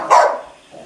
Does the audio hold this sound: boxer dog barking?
yes